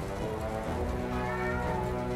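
A cat in the PS5 game Forspoken meows in a long, drawn-out, tonal call that holds steady at moderate loudness over a constant background of game ambience.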